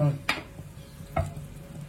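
Milk and rice being stirred in a kadai for akkaravadisal: two distinct stirring knocks over a soft, low simmering sizzle, no voices.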